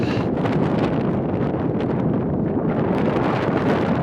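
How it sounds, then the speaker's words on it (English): Strong wind near the Tabernacle lava tubes roars and buffets the microphone continuously, a loud, rough rushing without any speech. "You might be able to hear how windy it is"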